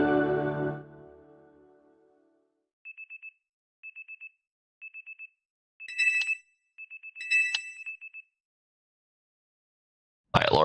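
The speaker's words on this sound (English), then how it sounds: "My alarm is going off." A phone alarm ringtone going off in a Pokémon game set in Lemoyne City: short repeated electronic beeping bursts in a steady pattern, then louder chiming bursts, all clear and alone after a fading low rumble.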